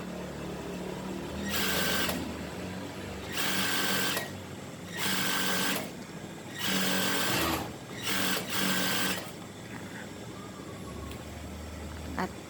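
An industrial sewing machine fitted with a special foot stitches herringbone tape onto a shirt collar, running in six loud bursts of fast whirring separated by short pauses, with quiet room sound between.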